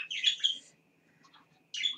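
Bright bird chirps in a short outdoor burst, a pause with faint background, then another quick flurry of tweets near the end, fairly close and clear.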